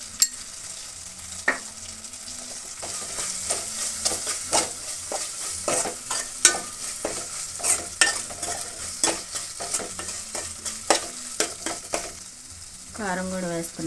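Egg curry simmering in a pan, stirred in a steady rhythm of close spatula scrapes over a continuous soft sizzle, with a brief sharper burst of frying at the very end.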